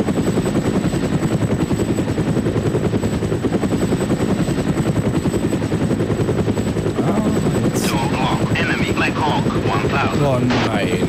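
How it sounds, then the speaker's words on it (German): A Black Hawk helicopter in the video game ArmA: Cold War Assault gives a continuous loud rotor chop throughout, and someone speaks over it in the later part. "Nein, kein Hubschrauber, den krieg ich doch hier runter"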